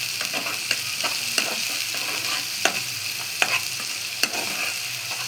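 Onions fry in oil for bhuna eel fish, sizzling steadily up close while a utensil stirs and scrapes the pan in a loose, repeating rhythm of sharper clicks.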